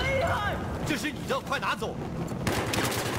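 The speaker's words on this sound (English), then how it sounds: "Oh, it's a sniper rifle." Sniper rifle gunfire in Battlefield 4 on the Altai Range map, sharp cracks and scattered shots mixed with game sounds while players talk over the action.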